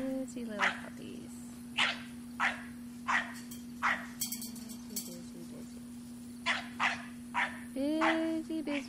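Bulldog puppies chewing a teething ring let out short, high yips and whimpers in an irregular series, close by, over a steady electrical hum and with someone talking to them now and then.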